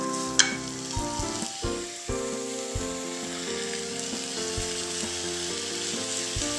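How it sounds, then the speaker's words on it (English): Racks of lamb searing in a hot pan, a steady close sizzle with spitting crackles and a few soft knocks of tongs or pan, no voices. "saute the racks of lamb for about 5 minutes each"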